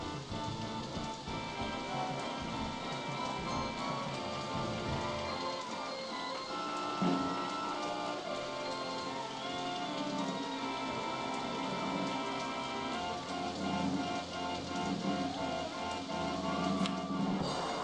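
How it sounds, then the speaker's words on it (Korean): Steady rain falls throughout a Roller Coaster Tycoon 2 game session, a dense, even hiss of droplets on surfaces with no voices over it. "근데 오늘은 왜 시작하자마자 비가 오는지 모르겠는데"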